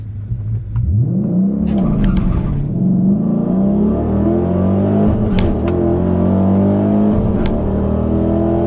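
A cammed Dodge Charger R/T racing a sixth-generation Camaro SS. A loud, close V8 revs up with a rising pitch and holds a heavy, throbbing roar at full throttle through gear changes.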